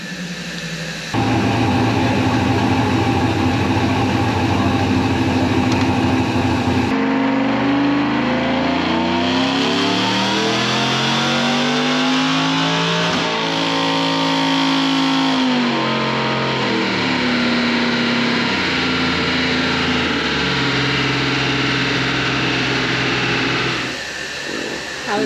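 A 2020 Chevrolet RST's engine revs hard on a dyno, climbing steadily toward 6,800 RPM in a long rising pull, then easing off and settling back down, loud and continuous throughout.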